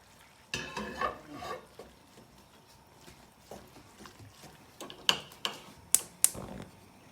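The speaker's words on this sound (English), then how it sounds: "Then we add the lentils to the rest of our stew here, or curry." Lentils tip into a pot of stew or dal curry and get stirred, producing wet sloshing swirls followed by several sharp clinks of a spoon against the pot, fairly close and with no voices.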